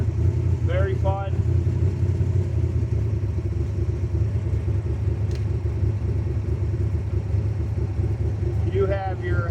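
A Factory Five MK4 Cobra replica with a fuel-injected 427 V8 and 5-speed manual rumbles steadily at idle, a deep continuous engine drone close by with a couple of brief chirps over it.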